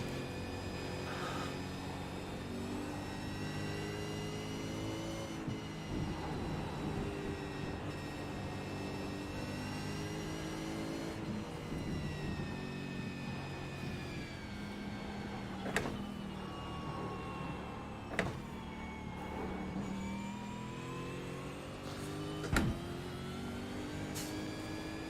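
A Ford V8 race car in iRacing circles Bathurst on a gentle out lap, its engine droning steadily through shifting gears, with a few sharp clicks and knocks standing out above the rumble.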